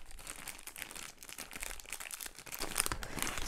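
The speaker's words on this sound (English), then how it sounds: "I'm just going to take this little bag with the wooden keys, put it gently on my easel." Small plastic bag holding eight wooden canvas stretcher keys handled close up, with continuous soft crinkling and rustling that grows a little louder toward the end.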